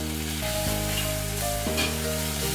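Ginger paste and green chilies fry for methi paneer in a loud, dense, continuous sizzle heard up close, with a steady hum underneath and no voices.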